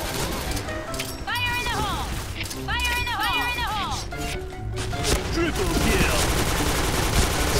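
Rapid bursts of video game gunfire crackle over a steady game soundscape in Point Blank, with a voice talking and shouting over the shots.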